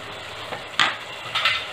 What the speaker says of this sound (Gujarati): બધું બરાબર મિક્સ કરી લેશું